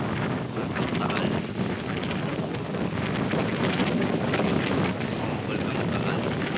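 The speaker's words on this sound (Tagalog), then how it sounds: "Ang lakas ng hangin." Strong wind buffets the microphone in gusty roaring bursts, with faint voices underneath, outdoors at San Nicolas, Batangas, near Taal Volcano.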